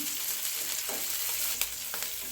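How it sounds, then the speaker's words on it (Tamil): Onions with curry leaves and green chili frying in a pan for egg thokku, a close continuous sizzle with a few soft scrapes and one sharper clink near the end. "பச்சை மிளகாய் நம்ம அதை கூட சேர்த்துக்குருவோம் சேர்த்துட்டு நல்லா வதக்கிக்கிறலாம்"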